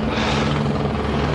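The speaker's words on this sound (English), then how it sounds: "the helicopter's going around and around because it's just too hazardous here" A helicopter circles over rocky, narrow field ledges looking for somewhere to land, its loud, steady rotor and engine drone filling the air close by.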